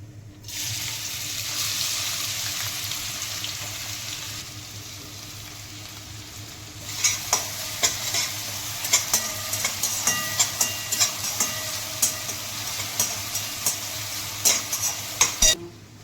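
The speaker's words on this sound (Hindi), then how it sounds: "अब डालेंगे ग्रेट की हुई है प्याज। थोड़ा जीरा फूट जाए," Cumin seeds crackling in hot oil before grated onion goes in, a faint hiss that turns into steady frying with rhythmic stirring knocks and scrapes, close and fairly loud in the second half.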